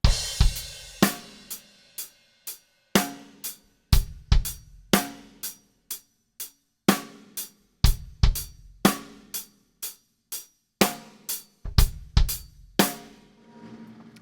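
A drum kit plays a groove built on a hi-hat lick: crisp, close kick, snare and hat hits in a syncopated repeating pattern, each ringing briefly into silence, with no voices.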